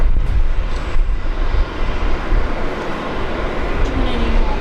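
A Dash 8 400 turboprop airliner departs Brisbane Airport for Gladstone, a loud rumbling engine drone with steady low roar, heard from outside with voices talking over it.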